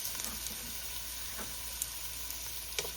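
Onions hiss in a pan while cooking a mung bean dish, a faint, steady sizzle with a few light clicks, no talking.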